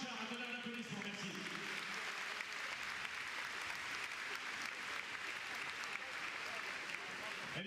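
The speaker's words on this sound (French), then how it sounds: "Merci à Christian Achard, à donner un applaudissement" Audience applause at an indoor horse derby event, a steady wash of clapping from a crowd filling the space, with a voice over a loudspeaker briefly heard at the start before the clapping takes over.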